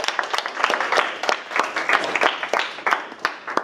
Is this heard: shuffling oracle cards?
no